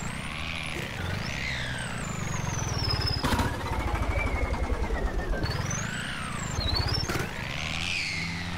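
New Holland 3630 tractor in Farming Simulator 19, its engine humming and rising and falling in pitch through the gears, with a loud steady throb in the middle stretch and a whine sweeping up and down.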